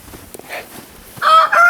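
Chickens cluck softly in a snowy off-grid yard, then a rooster crows loudly and close by, a bright drawn-out call that rises near the end of the short stretch.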